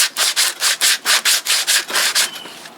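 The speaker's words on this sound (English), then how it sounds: "take a little bit of time to get that sandpaper up in so it frees up enough and move enough material" Sandpaper rubs a wooden handle made for a Silky saw blade in about a dozen steady back-and-forth strokes, each a close, loud, raspy swish in an even rhythm that fades slightly at the end.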